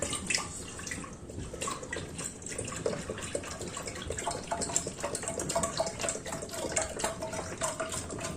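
One litre of milk pours steadily into a pot, a continuous close liquid splashing and gurgling stream with no talk.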